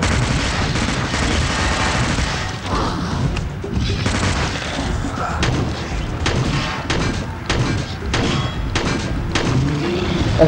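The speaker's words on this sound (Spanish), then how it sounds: "Vamos a disparar en la cabeza, en la cabeza, en la cabeza." Dense video-game gunfire from Dead Trigger 2 rattles on continuously, with repeated booming shots and heavy thuds packed tightly together throughout.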